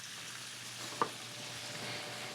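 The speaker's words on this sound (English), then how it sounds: "the stick of butter has melted enough that I can start putting in my vegetables to get that translucent effect" Vegetables and bay leaves fry in melted butter, a steady soft sizzle throughout with one brief clink midway, no voices.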